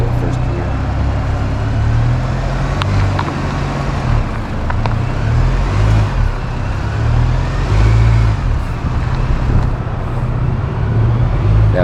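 A GM pickup on new Eibach suspension and KO3 tires crawls off-road in low range and first gear, its engine droning steadily and loudly throughout with small swells of revving, while a person talks over it.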